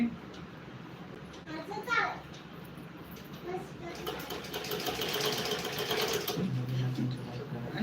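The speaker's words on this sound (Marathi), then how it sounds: "बघू ड्रेसला शिलाई करते" A sewing machine stitches a dress, running as a steady mechanical whir that builds through the second half and cuts off near the end, with a voice and other talk heard around it.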